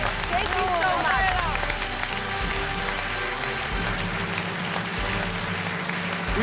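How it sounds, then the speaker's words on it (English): Audience applause for a performer fills a hall at a classical music talent show semifinal, a sustained wash of clapping with voices talking over it. "big applause for Ella"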